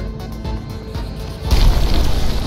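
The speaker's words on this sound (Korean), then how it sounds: "폭발." An explosion in the zombie video game Zombie Night Terror: a loud, deep boom bursts in about halfway through, following quieter rumbling game noise, and rolls on to the end.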